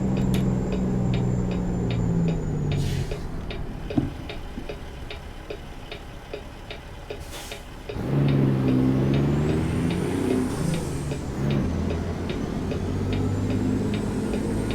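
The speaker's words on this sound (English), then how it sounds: "That's my Jake brake." Jake brake on a truck in American Truck Simulator, a steady rapid engine chatter with ticking, then a louder staccato rumble surging back in after a quieter stretch, with shifting pitch.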